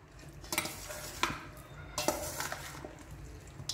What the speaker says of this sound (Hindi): बस हल्के हाथों से 2 स्पून की मदद से आप इसको मिक्स कर लें।